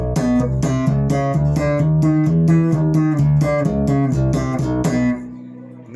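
A Musicman bass guitar in Daphne Blue, played on the neck pickup, runs through a rhythmic line of plucked, rounded low notes, close and steady, before ringing out.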